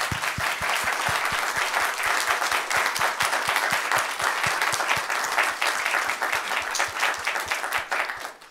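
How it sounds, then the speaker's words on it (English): Steady, dense applause from an audience at a library book reading, many hands clapping close and loud for the full length before tapering slightly at the end. "round of applause"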